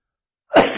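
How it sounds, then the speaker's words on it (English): A single short cough from someone speaking at a spiritual talk, an abrupt burst after silence that fades quickly. "that's a spiritual cough."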